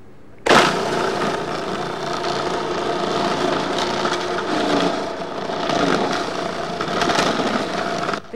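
A Cuisinart DLC-10 food processor motor runs steadily and loudly after starting abruptly, its dense grinding whir shredding chilled mozzarella pushed through the large feed tube, with slight rises and dips as the cheese feeds through.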